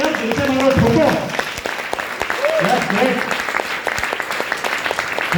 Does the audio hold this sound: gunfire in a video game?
no